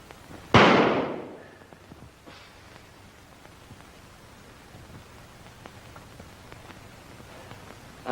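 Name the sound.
gunshots at a shooting target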